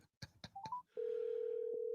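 A few quick telephone keypad dialing tones beep in succession, then a steady ringing or dial tone hums on as a phone call is placed, close and clear with no voices.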